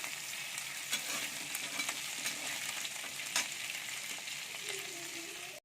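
Small mourola fish lightly frying in a heated kadai, giving a steady close sizzle and crackle with a few sharper pops and faint stirring scrapes, and no talk.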